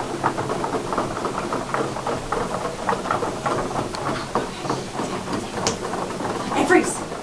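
A group of people tap their fingernails on tables to imitate rain: dense, continuous patter of many light clicks, fairly loud and even, with some voices in the background.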